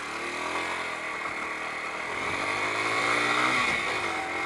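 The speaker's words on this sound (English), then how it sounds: "I've put the choke on and that seems to be letting it tick over" A Yamaha Enticer motorcycle engine idles steadily with the choke on, a continuous close buzzing tick-over with a slight rise in intensity midway, no speech.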